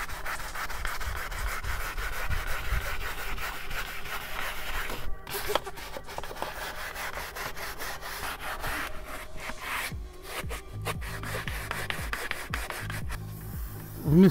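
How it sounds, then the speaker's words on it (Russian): Foam from a Turtle Wax car wash product is rubbed by hand into a car's painted surface, producing a steady close scrubbing and swishing that carries on throughout with small pauses and no talking. "И пока пена не осела, начинаем ее втирать."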